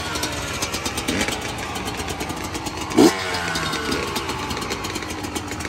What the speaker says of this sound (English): He can't even start his bike.